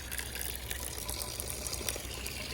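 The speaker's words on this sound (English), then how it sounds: "And they even have the drinking tap. I wonder if it still works. And it does." Water runs from an old public drinking tap on a street in Guardamar del Segura, Spain, a steady close splashing trickle heard alone for a few seconds.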